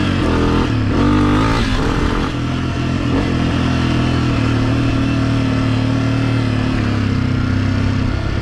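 A Honda CRF250F dirt bike engine runs loud and close, revving up early and then holding a steady mid-pitched drone throughout, with no voices.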